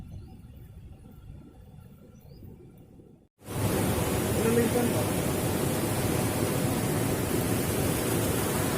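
Water rushes loud and steady from a waterfall at Curug Sawer in Tasikmalaya. The roar cuts in suddenly a few seconds in after quieter outdoor ambience and then holds as a broad, constant wash.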